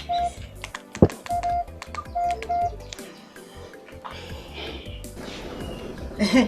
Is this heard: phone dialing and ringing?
yes